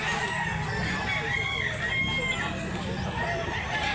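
A bulik gamecock rooster crowing amid a dense, noisy backdrop of other fowl and farm sounds, the crow faint and partly buried in the steady din.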